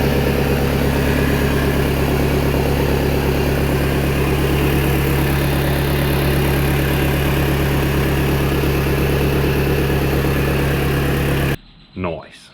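A Toyota 1KZ diesel engine runs at a steady idle, a loud and close rumble that holds evenly before cutting off abruptly near the end.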